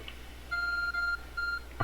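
Phone in the Pokémon Legends Arceus video game beeping: two short tonal electronic bleeps, the first longer than the second, fairly clear over a quiet background.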